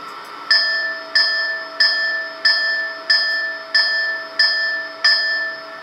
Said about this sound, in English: F4, F5 sound effects of bell.